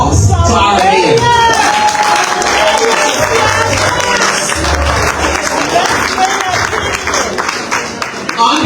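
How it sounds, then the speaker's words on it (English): Audience applause at a city "Key to the City" awards ceremony in Monrovia, a loud, steady room-filling clatter of clapping with crowd noise and voices mixed in, continuing throughout. "give a round of applause to our mayor"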